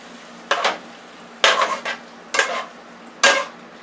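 Beef being stirred with seasoning in a pan, four separate bursts of scraping and stirring with quiet gaps between them, close and fairly clear.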